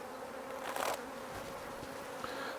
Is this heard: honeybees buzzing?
yes